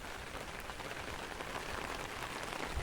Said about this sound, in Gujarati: જો છાંટા શરૂ થઈ ગયા છે